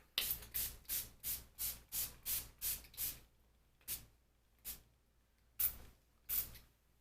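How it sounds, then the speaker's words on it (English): Quick hissing spritzes of a makeup setting spray bottle misted onto a face: a rapid run of about nine bursts, then four more spaced out, close and fairly quiet. "So I'm gonna go ahead and spray my face and do that."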